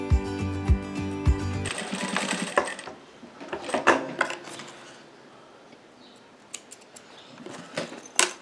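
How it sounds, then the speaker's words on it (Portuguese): A sewing machine stitches a small multi-compartment fabric bag, running in a short steady whir at the start, then giving way to scattered clicks and handling noises of fabric and parts. "E vamos costurar."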